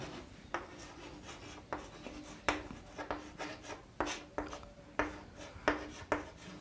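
Chalk or marker strokes on a classroom board while a point is written out, a run of short scratchy taps and rubs spread irregularly, close and fairly quiet with no talking.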